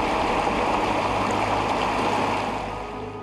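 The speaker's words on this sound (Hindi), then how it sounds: "एक ऐसा मंदिर जिसकी सीढ़ियों से आती है पानी की आवाज।" Water flows steadily from the steps of the ancient Garhmukteshwar temple in Hapur, a continuous close rushing stream with no break, easing slightly at the very end.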